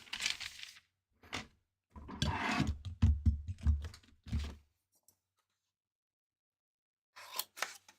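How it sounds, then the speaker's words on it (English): Scissors cut paper for a 2D papercraft model of the Enterprise NX-01, with close, crisp snipping in short bursts and a rapid cluster of cuts, then a long quiet pause and a few more cuts at the end. "I'm going to cut with the scissors on the line."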